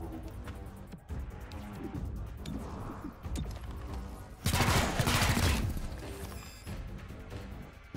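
A turret opens fire in the video game XCOM: Chimera Squad, a loud burst of rapid gunfire near the middle, set amid softer game effects and background music.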